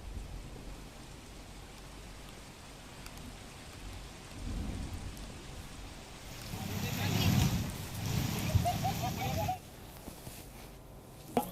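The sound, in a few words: torrential rain and thunder over a flooded village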